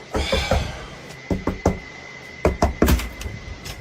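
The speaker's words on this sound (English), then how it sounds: "the knocking starts at the other side of the room" Knocking on a front door in a frightening home recording, heard as irregular clusters of sharp raps, a few quick knocks, a pause, then more bursts, fairly close and loud over a faint steady hum.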